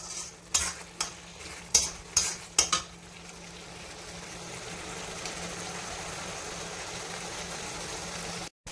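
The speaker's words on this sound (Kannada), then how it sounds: "ಡ್ರೈ ಫ್ರೆಶ್ನ ಇದರಲ್ಲಿ ಸೇರಿಸಿ ಕಲಸಿ ಚೆನ್ನಾಗಿ ಉರಿ ಜೋರಲ್ಲೇ ಮಾಡಿ." Dry fish masala stirred in a pan over high heat: five sharp scraping strokes of a utensil in the first few seconds, then a quieter, even frying hiss that builds toward the end.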